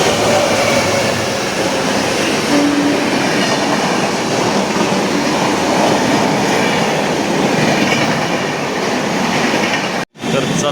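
The Konkan Kanya train arrives at Diva station at night, rumbling loudly and continuously at close range, its wheels clattering on the rails, with a brief sharp drop in sound near the end.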